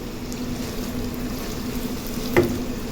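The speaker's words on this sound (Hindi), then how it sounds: "ये 3 मिनट के लिए मैंने चिकन को फ्राई कर लिया है।" Chicken sizzles and fries in a pan with garlic and ginger, a steady, loud crackling hiss throughout with one brief clink of a utensil near the end, no voices.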